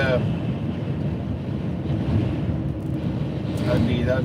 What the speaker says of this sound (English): oh, shoot, it's windy, man.